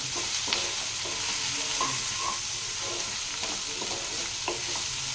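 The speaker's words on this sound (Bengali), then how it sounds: "লাল লাল করে ভেজে নেব আমি মশলাটা" Spices frying with turmeric and Kashmiri chilli in a pan, a loud, dense, steady sizzle with soft scraping stirs and occasional light clinks of a spoon, close up and uninterrupted.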